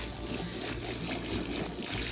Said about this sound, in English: while I fill up the water trough